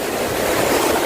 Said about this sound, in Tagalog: Malakas na yung alon natin.